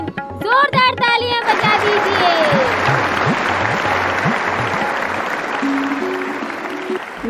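An audience at a stage play in Bhopal claps loudly for an incoming performer. Dense applause runs throughout, mixed with music and a few voices near the start.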